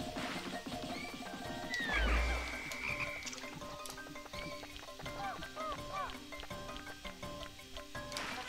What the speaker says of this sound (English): Because the frog is pretty glitchy, and it'll be better to deal with him sooner rather than later.